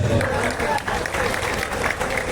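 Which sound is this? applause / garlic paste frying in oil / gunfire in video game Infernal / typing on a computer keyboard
applause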